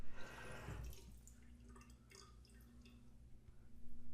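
A shave bowl gets its second filling of water, starting with a short burst of splashing and then quiet drips and trickles over a low background hum.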